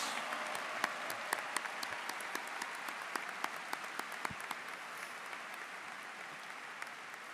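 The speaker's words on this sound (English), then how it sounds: "Please join me in giving them a round of applause." Crowd applause for salutatorians at a Southwest High School class of 2021 graduation ceremony: steady, moderately distant clapping from a large audience that slowly thins toward the end.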